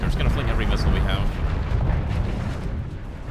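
Missiles launch and detonate in Starsector space combat, a loud rumbling barrage of booms and bursts that tails off slightly toward the end, with someone talking over the noise.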